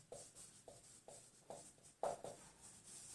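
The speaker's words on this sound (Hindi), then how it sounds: "पहले क्वेश्चन लिखते हैं" Chalk or marker writing a question on a classroom board, a series of short scratchy strokes in an uneven rhythm with brief pauses between them, close and fairly quiet, no talking.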